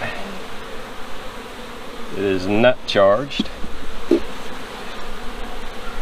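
A steady buzz of many honeybees at an open hive hums throughout, with a person speaking briefly over the swarm.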